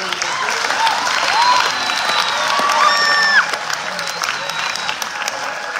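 An audience at a Year 12 school graduation applauds the hospitality students with sustained clapping, mixed with scattered cheers and whoops and some chatter from the crowd.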